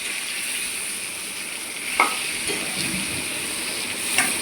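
Pointed gourd stir-fried with salt and turmeric hisses in a steady sizzle, with a couple of sharp spatula scrapes against the pan partway through; no one talks.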